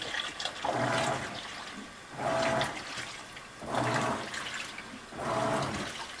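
Insignia top-load washing machine filling with cold rinse water on a heavy duty cycle, a rushing flow that swells and eases in four regular surges, close and steady, without talk.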